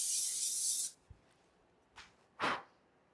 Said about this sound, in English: Get your air fryer basket, little oil spray right on the bottom.